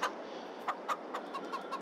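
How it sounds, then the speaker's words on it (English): Chickens cluck repeatedly from a large flock of hens and roosters in the Farming Simulator 22 video game, short clucks recurring every fraction of a second over a steady background noise. "got 200 chickens, roosters, 10 roosters"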